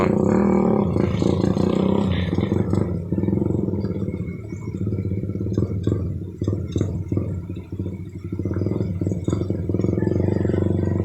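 A motorbike engine drones and strains while driving through river water, with a loud, rough low roar that surges and dips unevenly throughout.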